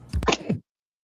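A single sharp, close sneeze bursts out and cuts off abruptly, followed by silence.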